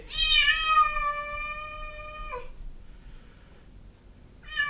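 A cat left behind in an evicted rental unit meows loudly in one long drawn-out call, then a short second meow starts at the end, with a quiet room in between.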